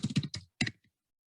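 Fingers type on a computer keyboard to fill in form fields, giving a quick close run of crisp keystrokes that stops abruptly and leaves silence.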